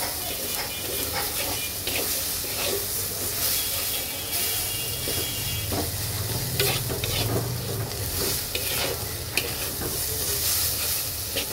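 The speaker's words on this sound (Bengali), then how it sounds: "এইবার সব কিছু সুন্দর করে একটু ভাজা ভাজা করতে হবে।" Spices with turmeric and coriander powder frying in a little oil for a chewa fish do-piyaza while being stirred: a steady, close sizzle with scraping stirs throughout and faint background noise.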